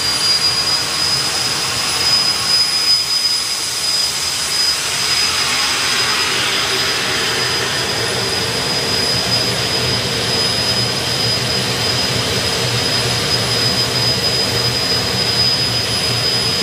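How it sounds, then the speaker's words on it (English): Firefall, a jet dragster with afterburner, runs at a European drag racing finals event, its loud continuous roaring whine holding steady and swelling slightly, with a high tone above a broad rumble. "The afterburner ball getting louder and louder as the jet is"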